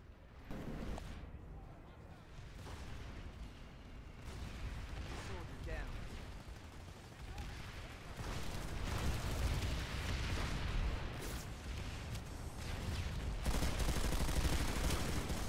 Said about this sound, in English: So running the T9 Carve, the default heavy assault LMG, one of the probably most popular and powerful weapons of the default set.